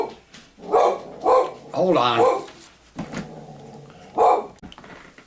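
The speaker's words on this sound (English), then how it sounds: "My dog kind of got riled up about the neighbor's dogs" A pet dog, stirred up by the neighbor's dogs, barks in several loud, close bursts indoors, spaced irregularly, with someone speaking briefly between them.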